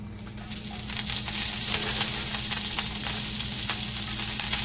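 Kale sizzling loudly in a hot frying pan, a dense, steady crackle up close with no talking.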